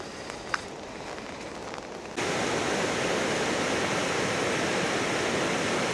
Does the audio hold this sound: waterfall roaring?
yes